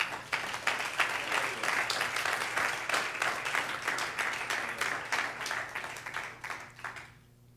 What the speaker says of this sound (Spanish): ¿Cuánto dan un aplauso a Jesús?